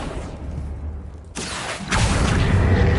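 A Confringo blasting spell goes off in Hogwarts Legacy with a sudden whooshing burst, followed by a louder, rumbling explosive blast that carries on to the end.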